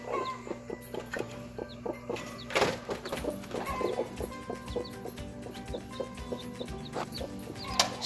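A mother hen in a brooder with her chick clucks in a steady run of close, rhythmic clucks with occasional louder squawks, no talking.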